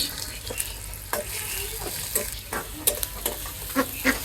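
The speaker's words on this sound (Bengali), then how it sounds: "এখন আমি এগুলা লাল লাল করে বাজিয়ে নিব" Onions and green chillies frying in oil in a pan for prawn curry, a steady sizzle broken by repeated scraping stirs and clinks of the utensil against the pan.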